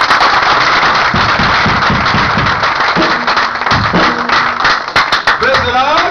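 A church congregation at a Pentecost service in Gambia claps in a brisk, uneven rhythm, loud and close, with voices calling out and singing over the clapping.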